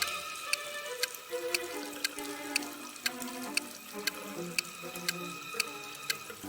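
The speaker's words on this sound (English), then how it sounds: "a room that's slowly getting filled with water coming from a faucet on the wall" Water running steadily from a wall faucet into a filling room, a continuous bubbling pour with a regular ticking pulse throughout, no voices.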